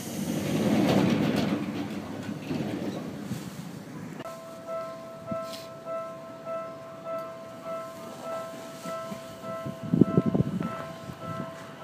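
A train pulls out from a platform at Seibu Haijima station: a low rumble, then a rising electric motor whine and rhythmic wheel clatter as the cars roll past, with a louder burst near the end.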